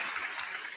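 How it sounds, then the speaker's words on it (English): Applause from an audience at a government engagement event with graduate interns of an affordable housing programme, a brief burst of steady, dense clapping. "A round of applause for her."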